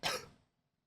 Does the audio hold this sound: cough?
yes